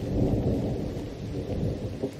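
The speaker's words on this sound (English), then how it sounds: "You gotta get out of the rain," Cartoon thunderstorm with heavy rain: a dense, steady roar of downpour and low rumbling thunder fills the whole stretch, loud and close, with no talking.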